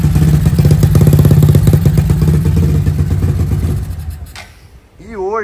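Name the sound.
motorcycle engine with carburetor running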